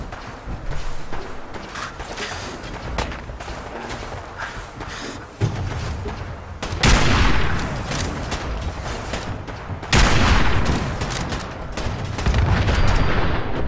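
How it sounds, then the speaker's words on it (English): Sniper rifle fire in the video game Fallout 4: a few loud, sharp shots ring out with echoing tails over a busy game background, spaced several seconds apart. "time to get out the old sniper rifle."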